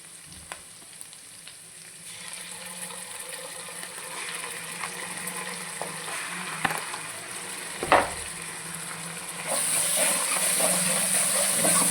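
Ginger garlic paste fries in a pan with a steady soft sizzle, punctuated by a few brief stirring clinks, and the hiss swells louder near the end.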